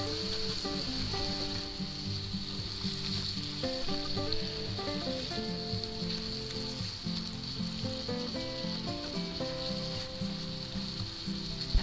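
Onions, mushrooms and asparagus with parsley flakes sizzle steadily in a hot pan alongside ribeye steak, a continuous close frying hiss with music playing underneath and no talking.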